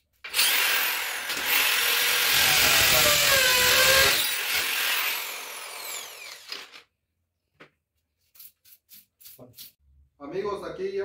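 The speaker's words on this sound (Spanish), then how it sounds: "con un taladro y una broca de 3 octavos. Hay que hacer los agujeros donde van los taquetes" Power drill with a 3/8-inch bit boring holes for wall anchors while installing a toilet, loud and close, whining continuously for several seconds before stopping, followed by quieter clicks and handling noises.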